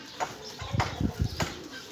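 Soft, low pigeon coos in a short rhythmic series, a few muffled pulses close by with faint rustling.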